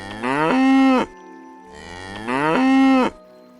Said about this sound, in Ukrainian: це корова, і вона мукає